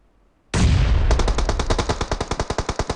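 Loud burst of gunfire in PUBG Mobile starts abruptly, then settles into a rapid, steady string of automatic shots, close and punchy.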